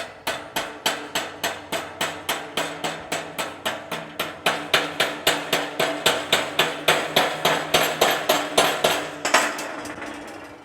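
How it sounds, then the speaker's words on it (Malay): Chipping hammer knocking slag off a straight-run weld bead in a welding class, a steady series of sharp metallic raps, roughly three per second, close and loud with no talk. "Setelah dikimpal, kita harus menggunakan chipping hammer untuk melihat hasilnya"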